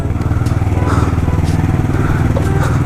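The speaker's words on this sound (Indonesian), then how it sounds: "kenceng banget suara knalpotnya PK3" A GL motorcycle with a loud PK3 aftermarket exhaust running on a night ride: a close, loud, continuous throbbing exhaust note with fast regular pulses that stays steady throughout.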